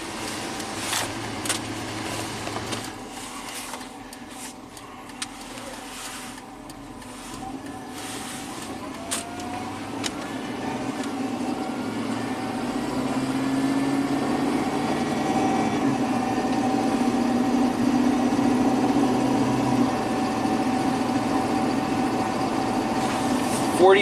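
A 1997 Chevy K1500 pickup with a 5.7 V8, running lean, idles steadily up close: a continuous low hum with a faint mechanical whine, slowly swelling a little louder toward the end.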